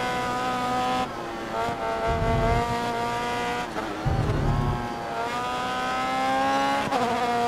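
Race car engine in GRID Autosport held at full throttle with a transmission fault, a loud sustained high-pitched whine with gear-change dips and two brief low rumbles, steady and close throughout with no talk.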